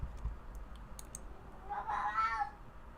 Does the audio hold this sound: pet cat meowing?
yes